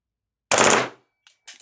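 An airsoft sniper rifle with an MWS-style magazine empties its last few rounds in one short, sharp full-auto burst, followed by a couple of faint mechanical clicks.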